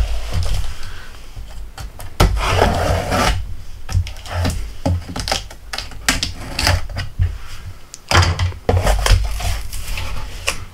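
A Craftsman brushless four-tool combo kit box is opened with a busy run of cardboard rustles, plastic clacks and knocks, loud and close, with no talking.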